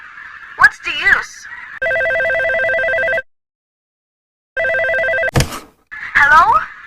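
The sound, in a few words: telephone ringing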